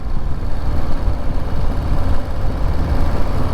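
A Harley-Davidson Street Bob motorcycle engine runs with a steady, deep, low rumble that stays dense and unbroken throughout, close and fairly loud with no voices.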